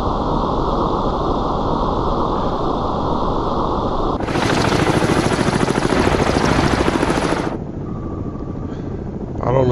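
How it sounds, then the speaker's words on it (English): A helicopter in the Cold Waters submarine game gives a steady, loud rotor drone with rhythmic chopping that swells louder midway, then settles back to a constant hum. "I can still hear the helicopter out there somewhere."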